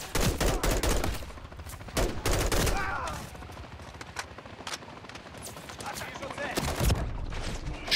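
Unsilenced gunfire from the Modern Warfare 3 campaign: loud, sharp bursts of shots in rapid volleys, broken by short pauses, with a voice talking over the fighting.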